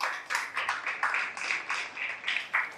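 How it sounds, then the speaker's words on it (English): Audience applause for the pitchers at a shark-tank style business pitch competition, steady rhythmic clapping in a room, moderately loud and close, with no talk over it. "Can we just have a huge round of applause for our pitchers here?"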